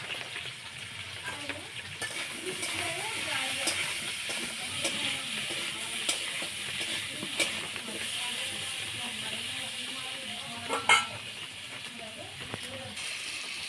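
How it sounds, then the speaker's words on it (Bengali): Potatoes fry in a pan with a constant sizzling hiss, broken by scraping stirs and a sharper clatter near the end, while a person talks over the cooking. "আলুটা আমার ভাজা হয়ে গেছে। এবার তুলে নেব।"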